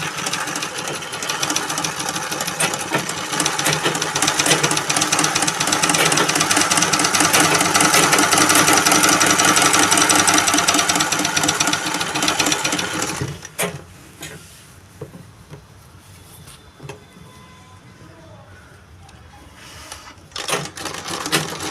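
A zig zag sewing machine stitching cloth runs with a fast, steady mechanical whir and rattle for about thirteen seconds, then stops, leaving quieter handling noises and a few brief clicks.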